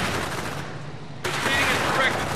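Cannons fire in the Battle Battalions game as a dense, continuous roar of rapid shots and blasts, loud and sustained, with a brief dip before it surges again.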